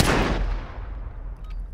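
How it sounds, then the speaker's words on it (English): One loud, close gunshot from the video game Modern Warfare 2019 cracks out and then rings off in a fading tail. "I shot this guy so many times, and it's like I wasn't hitting him"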